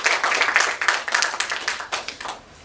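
Sparse clapping from an audience at a panel discussion on digital skilling, a few hands beating in uneven, irregular bursts that thin out toward the end, with no voices over it.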